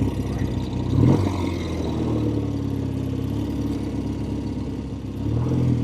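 A vintage 1970 Triumph TR6R motorcycle engine while riding, a steady mid-pitched drone close by with a brief surge near the start and another rise at the end, with no voices.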